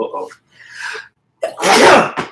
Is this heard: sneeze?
yes